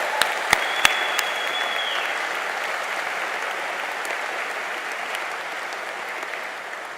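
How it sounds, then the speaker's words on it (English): Sustained audience applause fills a university graduation ceremony hall in Liverpool, a steady wash of many hands clapping at even loudness, with a few sharp isolated claps near the start and no voices over it. "A round of applause for Dr. Suzanne Vogel."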